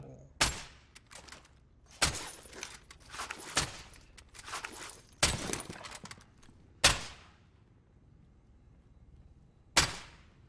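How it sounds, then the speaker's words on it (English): Gunfire in the Warzone video game: sharp, loud shots and short bursts at irregular intervals, separated by quieter gaps, with a voice speaking between them. "I'm taking fire!"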